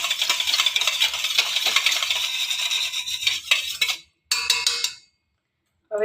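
Papad khar being stirred in a bowl while preparing gathiya batter: a steady, close scraping and clinking of a spoon for about four seconds, a brief burst of renewed stirring, then silence.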